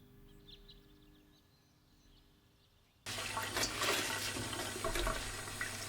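Wild herbs such as dandelions and daisies are rinsed under running water, starting with a sudden, steady rush of splashing that follows a few seconds of near silence.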